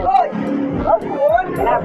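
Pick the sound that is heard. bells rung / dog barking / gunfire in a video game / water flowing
dog barking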